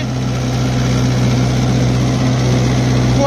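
Mahindra 575 DI XP Plus tractor diesel engine held steady near 2000 rpm in top-low gear, a loud, continuous low drone with a constant hum and no change in pitch throughout.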